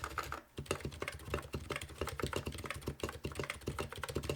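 Close-up keystrokes from a full-size custom electro-capacitive board at a zero-degree angle, a brisk, steady patter of soft thocky clicks with a tiny gap early on, heard alone.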